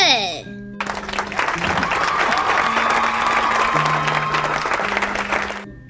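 A concert crowd applauds and cheers to welcome the band onstage, a dense, steady burst of clapping under light background music, with a voice speaking briefly at the start.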